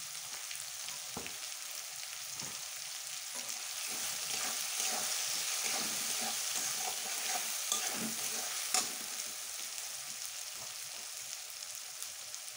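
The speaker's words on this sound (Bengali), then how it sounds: "আর একটু কষিয়ে নেব মশলা দিয়ে" Chana and ground spices (coriander, cumin, chilli, turmeric) sauté in a pan for a dhaba-style ghugni, with a constant hissing sizzle. Spoon scrapes and stirs land at irregular times, close and clear.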